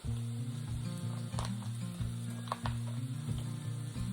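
A Mississippi roast browning in a hot pan right after being flipped, giving a steady close sizzle with a few crackles and pops throughout.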